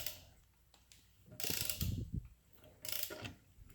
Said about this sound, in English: I'll turn the motor over a little bit so the cylinder's on the bottom.